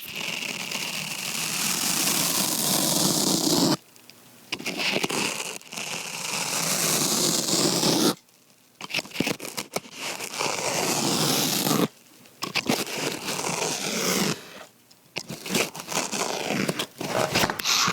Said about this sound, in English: these sponges are like the most satisfying thing you could ever cut in your life